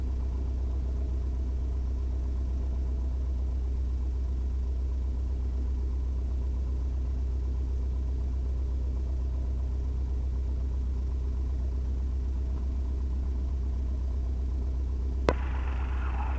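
RV-6 light aircraft engine running on the main apron before a rolling takeoff onto the runway; a steady low droning rumble holds evenly throughout, with one brief sharp click near the end.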